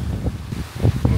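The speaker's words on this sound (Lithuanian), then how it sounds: "vėjas." Gusty wind by the Šventoji river in Anykščiai buffets the microphone in low, uneven bursts, close and fairly loud over about a second.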